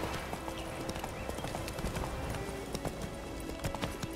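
Horse hooves clip-clop at a brisk, steady gallop in The Witcher 3: The Wild Hunt, a rapid stream of hoof strikes over a dense game soundscape.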